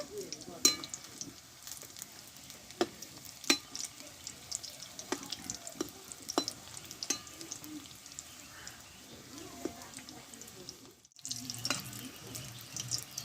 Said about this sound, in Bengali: দেখো একটু নাড়াচাড়া করে দেবো দেখো একটু উল্টিয়ে দেবো এক পিট ভাজা হয়ে গেছে